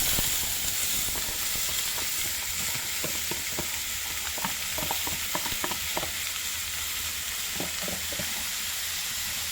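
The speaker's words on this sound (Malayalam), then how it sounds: "നമ്മൾ അരിഞ്ഞു വെച്ച് നമ്മുടെ കുമ്പളങ്ങ എണ്ണയിലേക്ക് ചേർത്ത് കൊടുക്കുക." Chopped ash gourd fries in hot oil with green chilli for thoran, a steady close sizzle and hiss broken by irregular scraping and clinking as a spoon stirs the pan.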